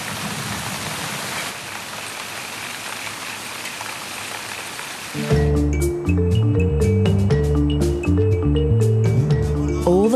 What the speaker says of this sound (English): It's an absolute deluge.